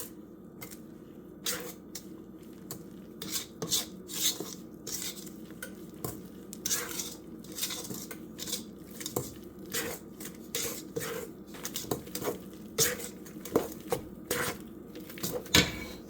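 Whisk or spatula stirring a dry flour mixture into lemon cake batter in a bowl, with repeated soft scraping and clinking strokes at a steady, uneven rhythm, close and moderately quiet throughout.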